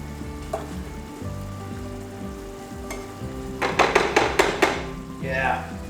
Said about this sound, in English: You just want a small, little rolling simmer